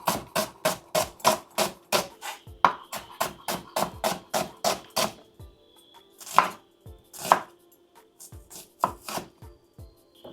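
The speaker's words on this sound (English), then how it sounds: "But I'm going to be cutting these into strips just to see." A knife cuts onions into strips on a board, landing in a quick run of sharp, evenly spaced chops, then slowing into scattered separate cuts with brief pauses.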